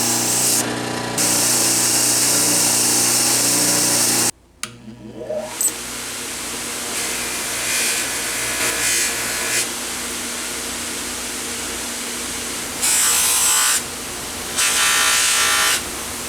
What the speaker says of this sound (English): Now all I need to do is take this to the wire brush and maybe the fiber wheel.